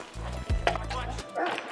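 A Malinois barks close up in a short, loud burst of a few sharp woofs, with a handler's voice speaking over and around the barking during training.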